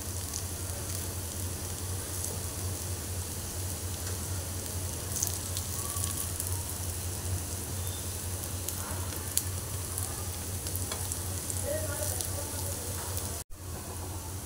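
Alu vadi, colocasia-leaf rolls, shallow-fry in oil in a pan with a steady, even sizzle that crackles throughout.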